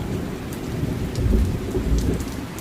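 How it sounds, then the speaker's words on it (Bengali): Deep rumbling thunder rolls under steady pattering rain, with the rumble swelling in the middle before easing back into the continuous downpour. "কালো মেঘ ডেকে উঠল ভয়ঙ্কর শব্দ করে সঙ্গে সঙ্গে টুপটাপ বৃষ্টি"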